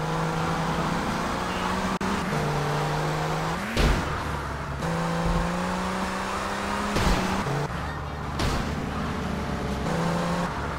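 Car engine in the video game Grand Theft Auto Vice City, a continuous revving drone that climbs and drops in pitch with gear shifts, broken by a few brief crash or impact bursts.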